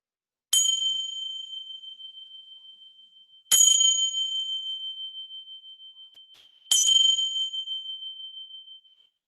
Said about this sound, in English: we're going to hear the bell sound